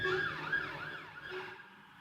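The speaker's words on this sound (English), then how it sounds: "That's an ambulance as well" An ambulance siren wails past outside a window, its rising and falling tone fairly faint and fading slightly as it moves away.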